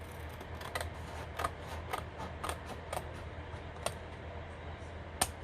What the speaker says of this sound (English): And then you'll want to cut that off.